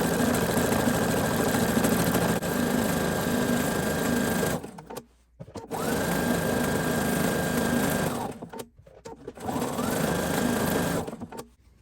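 Sewing machine stitching an appliqué onto a t-shirt dress, a loud, close, steady mechanical whir that runs in three long stretches, stopping briefly twice between them.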